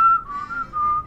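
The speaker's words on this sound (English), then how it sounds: "I caught you whistling that" A person whistles a short, clear melodic tune, a few sustained wavering notes, close and alone.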